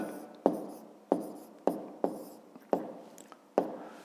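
Pen strokes on paper while writing down the answer to a fifth-grade math exercise, six or seven distinct scratchy taps at a steady rhythm, close and quiet.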